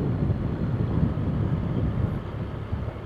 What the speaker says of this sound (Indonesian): Ini kencang sekali anginnya di sini